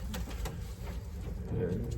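An all-white racing pigeon cooing nearby, low soft coos repeating over a steady background hum, with faint rustling and a slightly louder coo near the end.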